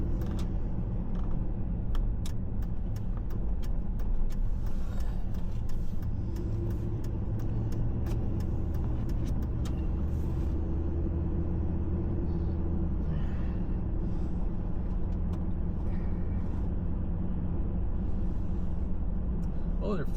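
Steady low rumble of a car driving along a city road in Minot, North Dakota, continuous and fairly loud throughout, with people talking inside the vehicle.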